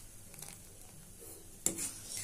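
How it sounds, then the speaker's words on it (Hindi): Kasuri methi being stirred into kadhi in a cooking pot: soft, faint scraping with a single sharper clink of the spoon against the metal partway through. "इसी में डाल देंगे और इसको थोड़ा चलाएंगे"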